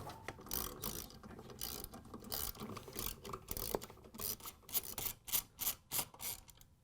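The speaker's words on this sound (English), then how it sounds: "We're going to use a 1/2-inch socket with a ratchet and an extension to take out the 3 bolts to hold the transmission on." A ratchet with a 1/2-inch socket and extension clicks in quick rhythmic bursts while backing out transmission bolts on a Whirlpool washer, close and fairly quiet, with no talking.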